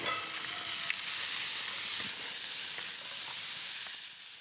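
Grouse sears in a preheated, well-seasoned skillet with a steady, loud, close sizzle and hiss that holds throughout before easing slightly at the end.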